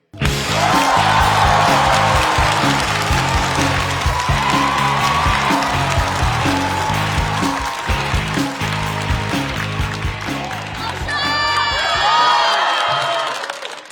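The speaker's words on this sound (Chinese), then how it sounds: "掌声欢迎" A large studio audience at a roast comedy show applauds and cheers loudly and continuously, with whoops and shouts over the clapping and a musical tone rising near the end.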